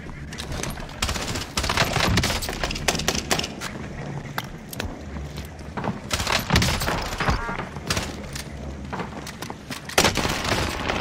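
Gunfire in Call of Duty on Rebirth Island, including a P90, comes as loud, irregular bursts of shots and thuds with brief gaps, close and sustained throughout.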